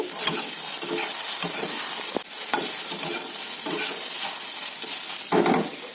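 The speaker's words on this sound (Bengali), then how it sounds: "এই দেখো আলু ভাজা বানাচ্ছি" Potatoes fry in a pan in a home kitchen, a continuous sizzle with repeated stirring scrapes and a few clinks of utensil against pan, close and without talk.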